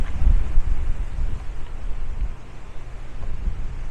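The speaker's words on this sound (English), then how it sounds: "big gust of wind came in. Look at that." Gust of wind on a hot Brooklyn street, a loud buffeting low roar across the microphone that swells and eases for a few seconds, with no talk.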